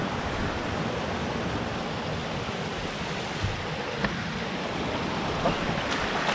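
Steady broadband rushing of a small, cold mountain stream in the Philippines, continuous and fairly quiet, with a few faint splashes.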